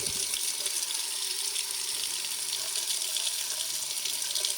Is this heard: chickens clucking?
no